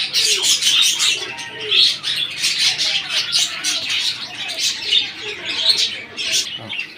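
Pigeons and a pigeon chick call close by, with soft cooing and busy chirps and tweets running continuously, with an occasional flutter.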